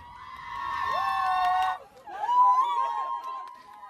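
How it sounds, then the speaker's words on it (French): Crowd of Ukrainians in Kyiv cheering and applauding as a surface-to-air missile downs a kamikaze drone overhead; mixed voices and shouts rise loudly, pause briefly, then swell again. "Une foule d'Ukrainiens applaudit"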